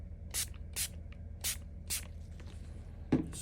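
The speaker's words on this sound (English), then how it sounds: "So let's spray a little bit on there." Four sharp hissing spray bursts of liquid onto leather at regular intervals, close up, followed by a soft thump near the end.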